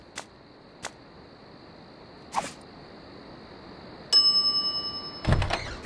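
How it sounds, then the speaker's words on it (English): A service bell at a shop counter in The Secret of Monkey Island, a few soft thuds, then a bright metallic ding that rings out with a quick series of repeated dings. "some idiot's already ringing that stupid bell"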